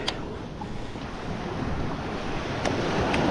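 Surf rolls onto a Gulf beach in a steady, close roar with wind rumbling across the microphone, no voices present.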